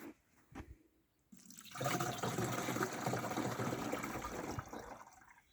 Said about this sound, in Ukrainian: І ми виливаємо його в бачок.